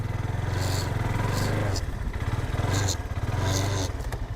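A used mini sports bike's engine runs steadily with a low, even rumble that dips briefly midway and then resumes; the sound is close and continuous, with no speech over it.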